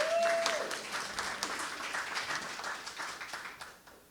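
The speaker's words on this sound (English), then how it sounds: "We'll give them a round of applause" A crowd at a symposium claps steadily, the applause starting strong with a brief tone at the start and gradually thinning and fading away.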